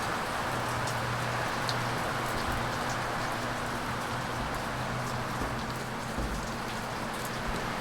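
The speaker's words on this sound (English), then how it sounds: "rainy day here." Steady rain falls outside a house on a cold, windy day, a dense, even patter of drops hitting surfaces that continues unbroken throughout with no voices.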